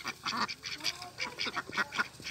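Ducks quack rapidly and continuously, overlapping one another at close range as the flock squabbles over scattered rice, with no talk.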